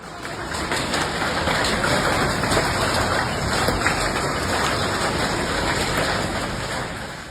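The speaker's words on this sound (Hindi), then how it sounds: "वीडियो में आप देख सकते हैं कैसे ओले गिर रहे हैं" Hailstones come down during a storm in Pune, a dense, steady hiss of pelting impacts that stays loud and even throughout.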